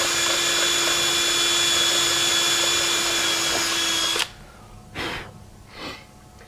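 Power tool cleaning a locking wheel nut, whirring loudly and steadily for about four seconds before cutting off abruptly, followed by a couple of short breathy noises.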